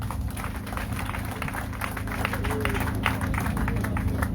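Audience at an electricity corporation campaign launch in Liberia giving a round of applause, a dense continuous patter of many hands clapping, fairly close and steady, growing slightly louder toward the end.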